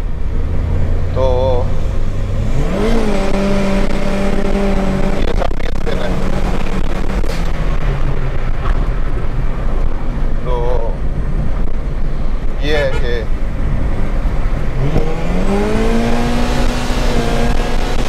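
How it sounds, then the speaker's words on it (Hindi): Turbocharged Toyota Corolla EE90 with a 3SGTE engine revs hard in third gear with wheel spin, engine pitch climbing and falling through several pulls under a constant loud road roar, someone talking over it throughout. "इवन अभी मैं थर्ड गियर में जाऊंगा, मैं पुल दूंगा, व्हील स्पिन आएगा"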